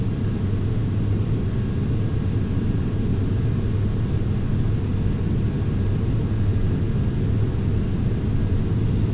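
An airliner in the FSX flight simulator rolls for takeoff with a steady, dense engine roar and low rumble that holds constant throughout, without talk.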